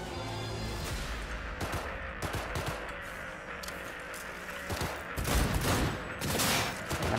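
Shotgun blasts in Cyberpunk 2077 gunfights, a string of sharp, loud booms scattered irregularly across the passage, several bunched close together, with game ambience underneath.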